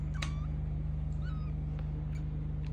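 A young kitten gives a few faint, high meows, some close together, over a steady low electrical hum.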